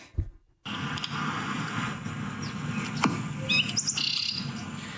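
A person whistles and chirps in imitation of bird calls, a string of short tweets and trills close to the microphone over a hissy background.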